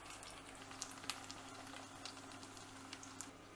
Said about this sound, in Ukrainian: Я вімкнула середній вогонь, розігріла сковорідку та обсмажуємо з однієї сторони